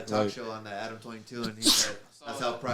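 A single sharp sneeze bursts out in the middle of ongoing conversation, loud and close, with people talking before and after it.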